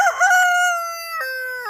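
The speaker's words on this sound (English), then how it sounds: "And crowing and clucking always help" A blind rooster crows once, a long, clear drawn-out call with a rising start and wavering tail, close and loud with nothing else around it.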